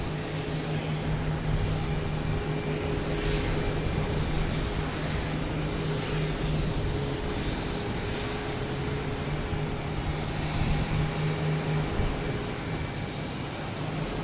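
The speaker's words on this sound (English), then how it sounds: "Now we have Air Canada coming in from Montreal at E175." An Air Canada Embraer E175 jet arriving from Montreal at Boston Logan, a steady broad engine roar with a faint whine, holding at even loudness throughout.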